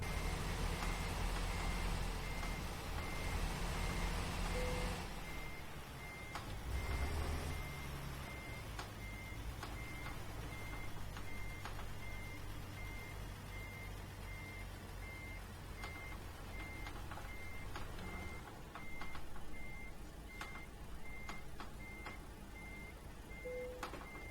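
Reversing beeps from an International 9600 truck backing up to a loading dock in American Truck Simulator, steady evenly spaced beeps over a low engine rumble, with a louder engine burst at the start and a hiss midway.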